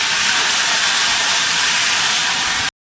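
Ginger and green chilli paste drops into hot oil already tempered with dried red chillies while ghugni is cooked at home: a loud, steady, hissing sizzle close up that cuts off abruptly.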